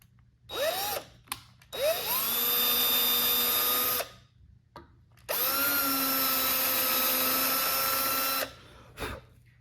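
A power drill fitted with a depth finder bores a hole in a custom Flying V guitar body, two long sustained whines with a brief spin-up and a short burst between, loud and close with no talk.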